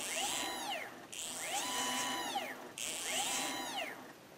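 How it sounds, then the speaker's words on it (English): The stepper motors of a ShopBot PRT Alpha CNC router, converted to an Acorn controller, run on a bench test. They whine in three repeated cycles, each pitch sweeping up and back down, close and steady with no talking. "The motors just sound so clean, and it just works."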